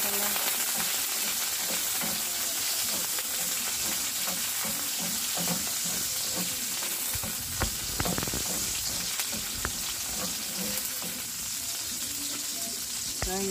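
Red onion frying in a pan gives a continuous close sizzle, with stirring scrapes and clatters rising through the middle. It sounds steady and fairly loud, with no voices.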